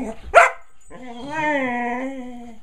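A dog gives one sharp bark, then draws out a long, wavering whimpering whine that holds steady and close, loud and alone with no talk over it.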